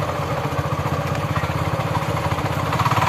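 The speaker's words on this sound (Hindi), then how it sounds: "बाइक चलाना भी बहुत ही ज़्यादा मुश्किल हो रहा है दोस्तों" A motorcycle engine putters steadily at close range on a rough, dangerous forest path near Barabakhara Waterfall in Odisha, with a rapid pulsing thrum and some clattering throughout.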